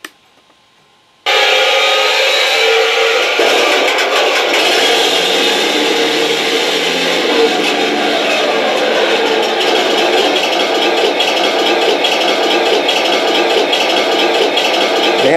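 An RC tank sound card plays a Tiger 1 engine idle, kicking in abruptly after a moment of silence and then running loud and steady with a rough, rattling, rhythmic chug throughout.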